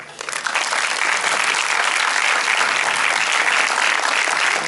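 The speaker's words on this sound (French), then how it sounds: "je vais vous demander d'applaudir chaleureusement" An audience at a special film screening breaks into dense, sustained applause that builds quickly in the first half second and then holds steady and loud.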